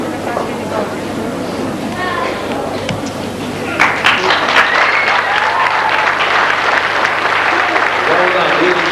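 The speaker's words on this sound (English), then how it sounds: "Give them a good round of applause." Audience applause at a 1997 Grade 7 graduation ceremony, a steady wash of clapping from a hall full of people that swells louder midway and keeps going, with voices murmuring underneath.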